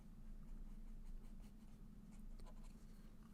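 A pen sketches a graph with soft, scratchy strokes in short bursts, quiet and close over a low steady hum.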